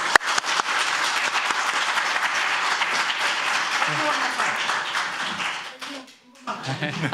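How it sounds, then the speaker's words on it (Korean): Audience applause at a Korean social welfare solidarity launch ceremony for its co-representatives, dense steady clapping from a crowd lasting about six seconds before fading, then a brief voice. "애써주신 연대 공동대표님들께 모두 큰 박수 부탁드리겠습니다"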